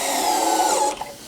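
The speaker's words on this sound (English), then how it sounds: "And the next step is just to finish putting in the screws." Power driver running screws into a router table built with Kreg pocket-hole joinery, a steady close whir for about a second before it cuts off and leaves a quiet tail.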